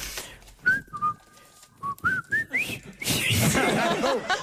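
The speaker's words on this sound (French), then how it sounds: "Elle s'est sifflé le pont de la rivière." Someone whistles the tune of The Bridge on the River Kwai in a rising, sliding melody, then breaks into laughter and chatter; voices talk around the whistled phrases.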